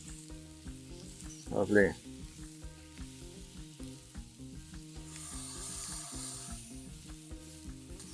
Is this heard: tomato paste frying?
yes